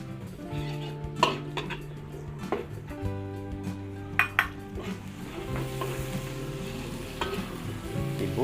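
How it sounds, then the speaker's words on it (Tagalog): Garlic and aromatics sauté in hot oil for pancit, a steady sizzle punctuated by sharp clinks and scrapes of a utensil against the pan, with occasional louder knocks. "Luto naman po tayo dito ng pansit. Lagyan tayo ng mantika. Gisa tayo."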